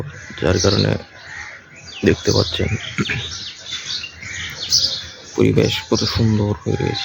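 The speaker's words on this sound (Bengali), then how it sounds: "দেখেন পাখি কত সুন্দর করে ডাকছে এখানে" Sparrows chirp in the background on a rooftop at sunrise after overnight rain, with light, scattered calls that fill the pauses while a person talks over them.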